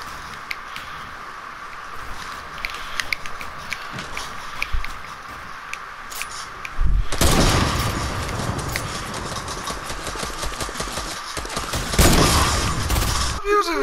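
Sniper rifle shots in the Fortnite video game, sharp bursts cutting through busy game noise, with a dense stretch of fire in the middle and another blast near the end.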